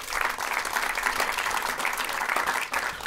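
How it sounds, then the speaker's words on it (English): Steady audience applause at an outdoor COVID-19 memorial dedication ceremony, a crowd clapping continuously at a fairly even level, moderately close, with no speech over it. "Let's give him a round of applause."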